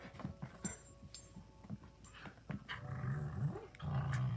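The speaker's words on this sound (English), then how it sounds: "it's so funny how dogs like to play by biting each other on the neck" A dog growls in short rumbling bursts while playing rough with another dog, nipping at the neck, the growls close and getting longer and deeper toward the end, without speech.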